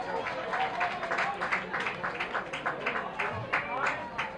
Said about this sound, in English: Hopkinton fans are cheering every pitch, every play.